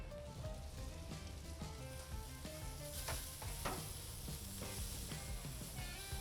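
Steaks sizzle loudly and steadily on a hot Traeger grill while being seared, a dense crackling fry with occasional sharper pops throughout and no talk.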